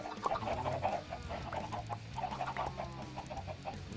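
Several chickens clucking in Minecraft, a busy chorus of short repeated clucks at moderate volume over a low background hum, with no speech.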